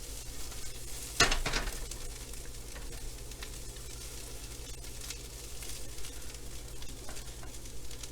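Cauliflower rice frying in oil in a pan gives a soft continuous sizzle, with a brief sharp utensil clink near the start and faint stirring scrapes after it.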